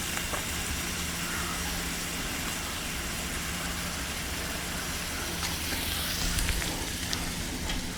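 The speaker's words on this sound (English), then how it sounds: "Potatoes are browning off nicely." Potatoes browning in a hot pan for seared venison backstrap, giving a steady close sizzle and crackle that holds evenly throughout with no talk over it.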